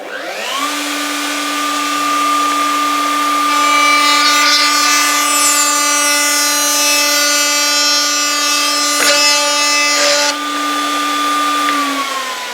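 A router spins at a steady high whine for about twelve seconds, with a smooth wooden dowel fed wrongly from the front; faint chatter and a few sharp ticks cut in midway, loud and close with no talking.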